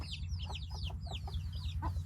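Chickens cluck and chirp close by at feeding time, with quick high calls repeating over a low steady hum and no voices.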